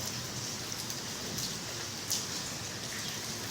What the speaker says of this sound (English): outside in this little, what do you call it, covered area while it's raining